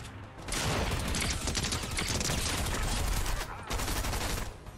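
A sustained burst of automatic gunfire in a Fortnite no-build match, loud and dense, with a brief break before the shooting resumes.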